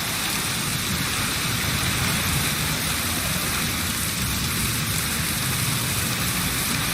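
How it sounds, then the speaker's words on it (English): Steady rain in the video game Witcher 3 falls as a continuous hiss with a low rumbling wash beneath, even and unbroken throughout, with no voices. "Looks like rain."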